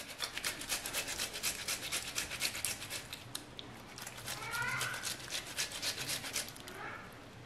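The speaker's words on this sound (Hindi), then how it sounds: "इसके बाद हम इसमें टमाटर को ग्रेट कर लेते हैं।" Tomatoes being grated by hand for a boiled egg and tomato dish, a close series of rhythmic rasping strokes against a grater, steady and fairly quiet with a brief pause midway.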